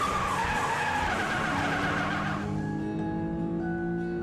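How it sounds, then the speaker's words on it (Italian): Cartoon race car speeding and skidding: a loud continuous screech of tyres that settles into a steady whining engine tone. "Ora la dottoressa McWilly ha la propria auto da corsa! Vediamo come corre!"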